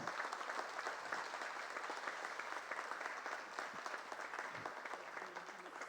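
Audience applause at a regional quiz finals: sustained clapping from a crowd, steady and moderately distant, fading slightly toward the end.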